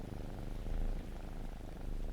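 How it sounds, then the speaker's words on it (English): A cat purrs loudly and steadily close by, a continuous low rumbling drone with no pauses. "who's purring so loud?"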